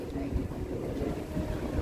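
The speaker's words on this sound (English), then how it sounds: "it gets really windy here actually" Wind blowing outdoors buffets the microphone in a steady, low, rumbling roar with small gusty swells, loud and close, and no clear voices on top.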